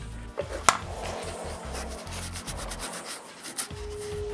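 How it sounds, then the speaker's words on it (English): A paste of lacquer and sawdust is worked into cracks in wood, making a run of close, rhythmic rubbing and scraping strokes with a sharp tap near the start. "I use this paste to fill up the cracks"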